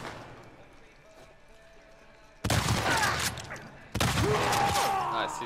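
Shotgun fire in The Last of Us Part 2 combat: two loud, sharp blasts roughly a second and a half apart, each with a ringing tail, break through quieter in-game ambience.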